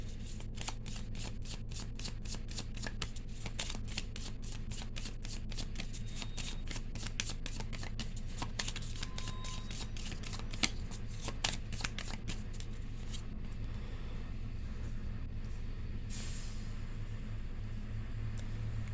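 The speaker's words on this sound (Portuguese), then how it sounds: "Embaralhar o tarô também" A tarot deck is shuffled up close for a reading. Quick, crisp riffling and card flicks repeat in a dense, steady stream over a low background hum, then thin out into a few scattered rustles.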